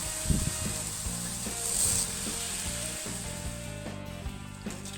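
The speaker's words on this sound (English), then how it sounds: "The bacon's been cooking for a couple of minutes." Streaky bacon, three slices cut in half, frying in a pan with a steady crackling sizzle and clicky spitting pops close up, accompanied by some clattering and scraping of utensils.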